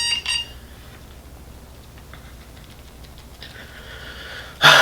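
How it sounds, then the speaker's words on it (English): An alarm goes off in short bright beeping bursts, one near the start and a louder one at the end, with a quiet stretch of low background between them. "Sorry, y'all, my fucking alarm."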